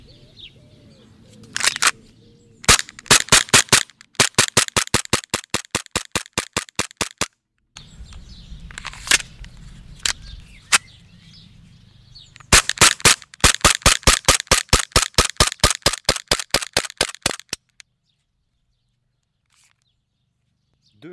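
Beretta PX4 gas airsoft pistol firing through a full magazine, sharp close pops in rapid strings separated by short pauses and faint gas hiss, ending in silence.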